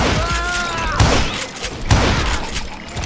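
Gunfire in the Wild West shooter Call of Juarez Gunslinger: two sharp, loud shots about a second apart ring out over a busy game soundscape with whizzing ricochet-like tones.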